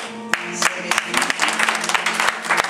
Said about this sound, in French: J'aimerais qu'on acclame Dieu aussi pour la vie des messagères